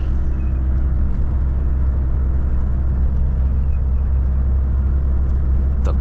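Volvo FH 540 truck on the road to Yakutsk, heard from inside the cab as a steady, loud low engine rumble and road drone that holds evenly throughout without pause.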